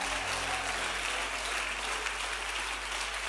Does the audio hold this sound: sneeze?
no